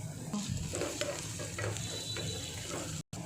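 Spices and ground dal powder fry and sizzle in a pan with oil for a tangy, spicy bottle gourd curry, a steady close crackle with stirring scrapes throughout and a brief cut near the end.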